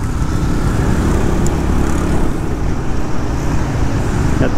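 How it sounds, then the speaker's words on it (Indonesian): Morning traffic jam of motorbikes and cars in Canggu, Bali: a steady, loud wash of idling and creeping engines close by, with a brief horn-like tone near the end and no talk. "Lumayan panjang pagi-pagi Canggu seperti ini teman-teman ya. Lumayan panjang macetnya."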